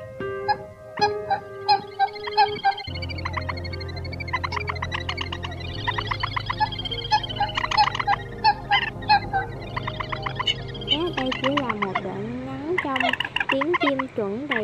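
Recorded calls of crakes, swamphen and coot used as a bird-trapping lure play loudly and close, with repeated sharp calls giving way to dense runs of rapid, bubbling, gobble-like cries.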